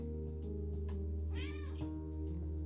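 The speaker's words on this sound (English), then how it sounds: "I have two cats." A pet cat gives a single clear meow in the middle, preceded by a few soft faint vocal chirps, over a steady low electrical hum in a quiet room.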